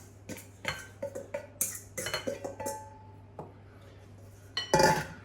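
A spoon stirring dry ingredients in a bowl for low-carb keto pizza dough, giving a series of irregular clinks and scrapes against the bowl, close and clear, with a louder clatter at the end over a faint steady hum.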